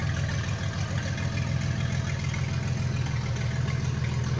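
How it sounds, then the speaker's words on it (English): A 1973 Datsun 240Z with freshly tuned carburetors runs as the car drives under its own power, a steady, close, low engine drone with a slightly knocking texture and no talk. "Here we have it, the 240Z driving under its own power."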